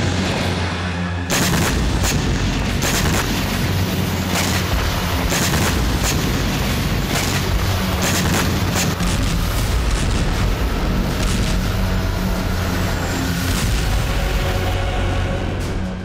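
Explosions from Ukrainian drone strikes in a war against Russian targets: a dense, continuous barrage of booms and blasts at steady loudness, with sharp bursts scattered throughout and no talking.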